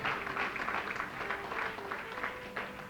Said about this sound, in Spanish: Dale un aplauso al Señor con todo su corazón